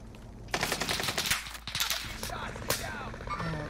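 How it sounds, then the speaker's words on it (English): Rapid gunfire from a Call of Duty Warzone Pacific match, with loud bursts of shots in quick succession, short cracks and echoing reports close by, plus some game noise between volleys. "I'm under fire."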